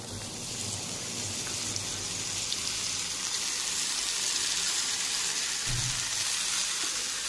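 Tender bottle gourd in hot oil with reddened panch phoron five-spice, giving a loud, steady hiss of sizzling that runs unbroken and close throughout, with no voices.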